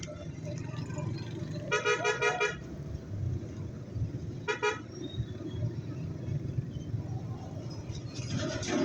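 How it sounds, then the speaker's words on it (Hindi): Car horns honk on a road trip departing Quetta for Dera Ismail Khan, a few short toots and bursts sounding over engine rumble and traffic, with a person talking in between. "अब हॉर्न मारो और निकलो,"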